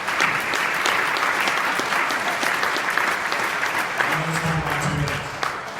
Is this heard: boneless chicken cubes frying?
no